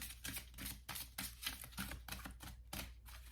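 Quick, dense bursts of rapid papery clicking repeat close up, like cards riffling and being tapped together, with short gaps between bursts.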